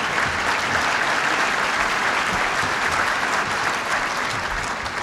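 A crowd at a Commonwealth Club gathering with President Reagan breaks into loud, sustained applause, a dense, even roar of many hands clapping throughout.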